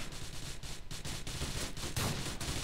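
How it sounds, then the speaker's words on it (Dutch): Bursts of rapid gunfire in the video game Grand Theft Auto IV crackle in quick, repeated pops with no break, loud and close throughout. "Ja, oké, nu schiet ik raak."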